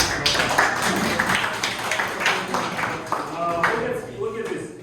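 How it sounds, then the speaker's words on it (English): Audience applause fills the room as a steady, dense patter of many hands clapping, fairly close and continuous, with voices talking over it throughout. "Please, applause."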